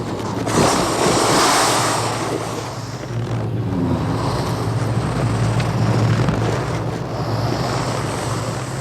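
Heavy, steady rushing of water from melting snow in a spring mountain landscape, a loud continuous broadband roar with a low rumble that dips briefly before surging again, no voices.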